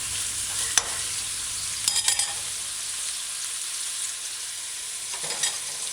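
Onions, fish chunks and garlic saute in a pan over medium-low heat, giving a steady broad sizzle with a few brief clinks and scrapes of stirring.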